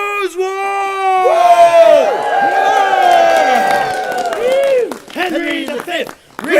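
A theatre audience cheers, whoops and applauds loudly at a comedy stage performance, the crowd noise swelling and then dropping off, with voices shouting over it.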